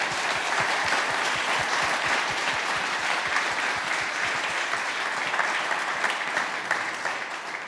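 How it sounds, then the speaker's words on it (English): An audience applauds a speaker at a startup event. The clapping is loud, dense and sustained for several seconds, with a few rhythmic claps near the front, and it tapers off slightly at the end. "Give him a round of applause."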